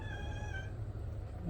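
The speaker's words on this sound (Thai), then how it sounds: "แมว" A cat gives a single faint meow, a short wavering cry lasting under a second against a quiet indoor background.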